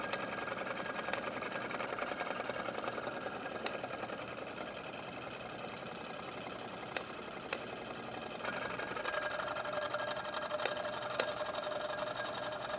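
A small Stirling engine keeps spinning after being lifted off a hot plate, its warm base still driving it. A steady, fast mechanical whirring and ticking runs at an even rate, close and continuous, with a few sharper clicks.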